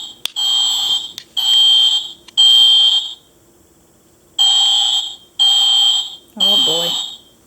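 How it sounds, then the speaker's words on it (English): A toy fire alarm in an American Girl doll classroom sounds a loud, shrill electronic beep in six separate bursts, each lasting about a second with short gaps between them. A voice speaks over the final burst. "They're not paying attention to this fire alarm."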